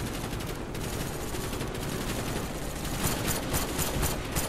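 Gunfire in Call of Duty Black Ops, a dense, continuous barrage of shots that fills the whole stretch at steady loudness with no pauses, like a sustained firefight.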